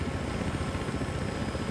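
Black Hawk helicopter flying in the Battlefield Hardline video game on Xbox One, a steady, loud rotor whir with a dense engine roar that holds throughout, with no voices over it.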